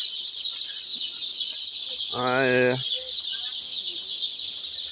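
A brood of one-day-old Sonali hybrid chicks keeps up a dense, continuous high-pitched peeping throughout, with one short spoken word heard over it partway through.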